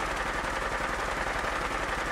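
A shoulder-mounted machine gun in Fallout 4 fires 5.56 rounds in one sustained, loud, even stream of automatic fire with no pauses, and nobody talks over it.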